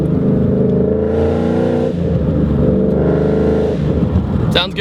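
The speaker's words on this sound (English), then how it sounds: "Car sounds healthy, it sounds good." A 2013 Ford Mustang GT V8, about 50,000 miles on it, revs loudly and smoothly while driving, the engine note climbing, easing off and rising again in close, continuous waves.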